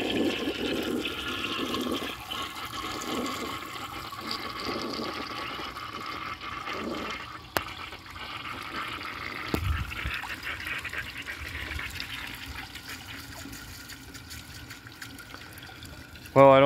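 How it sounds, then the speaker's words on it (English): A 1965 Nationaline toilet tank emptying, with low, steady gurgling and trickling water running on for many seconds, fairly quiet and close, a brief knock near the middle and a louder clunk at the end. "I'm going to empty the rest of the water out of the tank."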